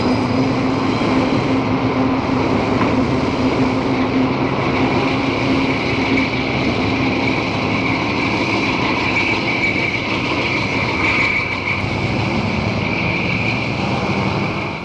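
Pusher locomotives shove a railroad train on a 1970s anthracite line, a loud, sustained diesel engine drone with a steady hum and rumble holding constant throughout, with no voices.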